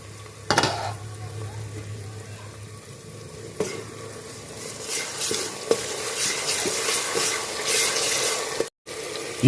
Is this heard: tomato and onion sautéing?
yes